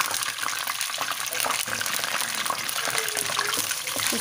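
Ground onion paste fries in hot oil left over from cooking chicken, giving a loud, steady, broad hiss that runs without a break.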